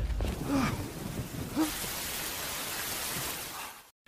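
Steady rain pours down in a film scene, a dense hiss filling the whole stretch at moderate loudness before cutting off abruptly near the end.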